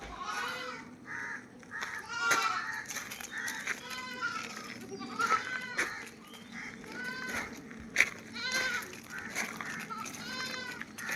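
Malabari goats at a livestock sale in Manjeri bleat repeatedly, several loud wavering cries spread through the clip over a busy outdoor background with people talking faintly.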